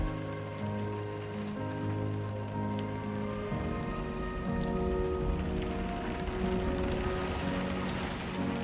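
Rain falls steadily in the video game Death Stranding 2, a dense, even patter of drops that runs the whole time under sustained tonal music with no talking.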